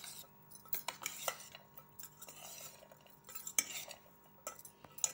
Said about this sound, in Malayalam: നന്നായി യോജിപ്പിക്കുക.